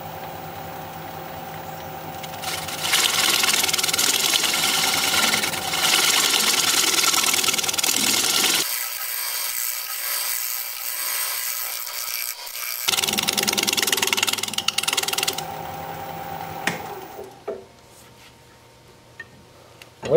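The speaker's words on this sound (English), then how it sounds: "Let's see if I can clean up my cuts a little bit with a shear scrape." Wood lathe turning a thin slab while shear-scraping cuts are made, with a loud continuous scraping hiss over the motor hum, a pause of a few seconds with the motor only, then more scraping before the lathe winds down.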